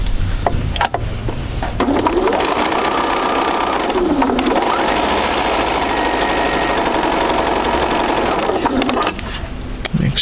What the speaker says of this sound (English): let me sew these. These are my four patches. Locking in my center seam.